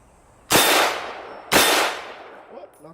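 Two loud, sharp AK-47 rifle shots about a second apart, each a hard crack followed by a long rolling echo that fades outdoors, with a faint metallic tinkle afterward.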